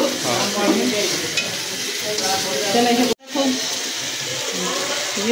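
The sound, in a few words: spice paste sizzling in oil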